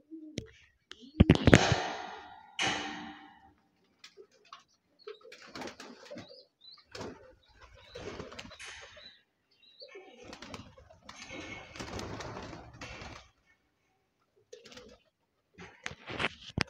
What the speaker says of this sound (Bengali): ঘরের ভেতরে ঢুকে একটু পায়রাগুলোকে ধাওয়া দিই।